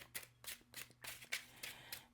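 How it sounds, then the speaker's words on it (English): Tarot cards from a gold-foil deck are shuffled in soft, quick riffling bursts, roughly eight papery rustles in an uneven rhythm, faint and close with no talking. "I just like to shuffle"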